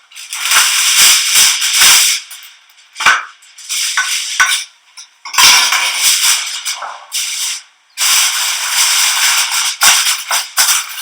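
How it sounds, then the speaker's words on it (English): A metal spoon scrapes and clatters against a pan of meatballs in sauce, giving bursts of loud clinking and scooping separated by short silences, with no talk. "you need to spoon some of that sauce over top of the meatballs"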